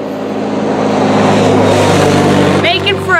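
A truck drives past on a road near a forested canyon, its engine a loud, steady rumble close by that swells and then begins to fade, with brief voice sounds near the end.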